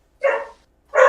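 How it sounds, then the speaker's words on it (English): A dog gives two loud, close barks, each about a third of a second long, with a short pause between them and no talk over them. "there's a dog"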